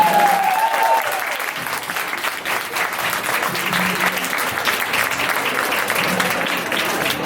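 A convention panel audience claps at length, a steady, dense wash of applause from many hands, moderately loud and sustained, with a brief voice near the start.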